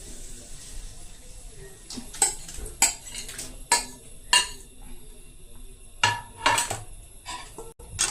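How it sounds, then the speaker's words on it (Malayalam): Cooked macaroni stirred in a pan with sauce, a spoon knocking and scraping against the metal in a handful of sharp, irregular clinks over a quiet kitchen background. "മക്രോണി നമുക്കിങ്ങനെ ഇളക്കി കൊടുക്കാം."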